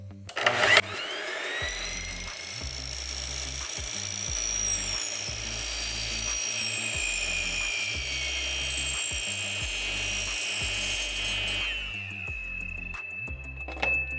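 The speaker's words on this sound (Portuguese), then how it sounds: "Eu sempre acabo levantando a proteção e ligando a serra assim daí" An electric saw cuts through an aluminium door profile: a brief spin-up, then a loud, steady high-pitched whine with grinding for about ten seconds, then winding down to a fading ring, close and with no talking.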